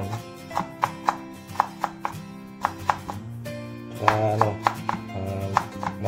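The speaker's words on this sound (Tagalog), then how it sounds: "Sa paghihiwa ng luya guys, mas maganda kung mga maliliit lang" A knife chops fresh ginger into small pieces on a cutting board, about fifteen crisp close taps in a steady, slightly uneven rhythm over a low background hum.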